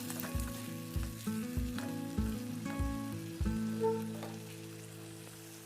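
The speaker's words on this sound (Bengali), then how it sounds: "আর মশলাটা দিয়ে খুব ভালো করে সব কিছু একসাথে খুব ভালো করে নেড়ে চেড়ে" Masala stirred and sautéed in a pan for a katla fish curry with drumsticks, a low sizzle under a run of rhythmic, regular scraping strokes of a spatula, close and alone without any voices.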